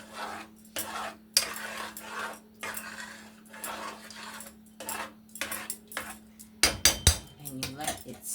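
A utensil stirs rice and oil in a cooking pot with repeated scraping and clinking strokes in an uneven rhythm, close and fairly quiet, plus a steady low hum in the background.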